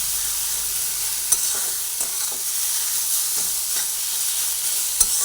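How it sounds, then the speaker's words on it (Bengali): Spicy pumpkin fritter batter fries in a pan over lowered flame with a steady close sizzle, while a spatula scrapes and stirs through it in scattered taps and clicks. "এইভাবে অন্তত পাঁচ থেকে সাত মিনিট মতো এটা ভেজে নেব ভালোভাবে নাড়াচাড়া করে এটাকে ভেজে নিচ্ছি"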